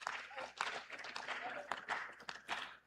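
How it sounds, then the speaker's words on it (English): Applause at a hotel company's annual general meeting: a dense, steady patter of many hands clapping, filling a large room for about three seconds, with voices mixed in. "Please give them a round of applause."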